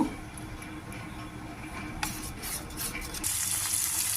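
Close spatula stirring scrapes through okra frying in a pan for dahi bhindi curry as chilli powder and turmeric are mixed in, a soft continuous scraping over gentle sizzle, with a brighter burst of sizzle toward the end.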